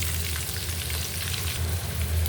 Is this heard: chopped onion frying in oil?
yes